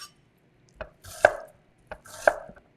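A knife slices vegetables for spanakopita on a cutting board, producing two separate bursts of sharp chopping and scraping strokes spaced about a second apart, close and clear with no voices.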